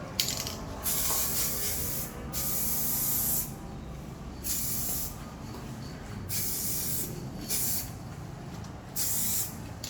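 Repeated bursts of Raptor 1K aerosol spray paint hiss loudly at close range onto plastic, each lasting a second or two, separated by brief pauses.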